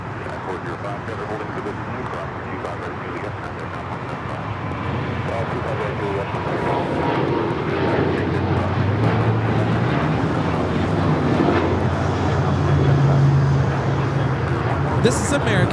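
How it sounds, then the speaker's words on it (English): A KLM airliner in 100-year livery, inbound from Amsterdam as flight 601, makes its second landing attempt at LAX, a broad jet roar swelling steadily louder and nearer over the whole stretch, with airport ambience beneath. "KLM making a second attempt to land."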